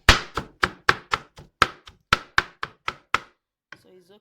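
Okra being chopped by hand with a knife on a board: about a dozen crisp, close knocks in a quick, fairly even rhythm, then a brief softer rustle at the end.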